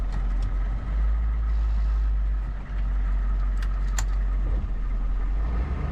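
Hummer H1 drivetrain running as the transfer case is shifted back into high range, a steady low idle-like engine drone with a brief dip in level midway and faint clicks, no talk.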